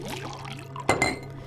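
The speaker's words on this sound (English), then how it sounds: "Sharon, go ahead and pour in the sand" Sand poured into a glass beaker of water, a brief liquid splash and clink close up, preceded by faint talk.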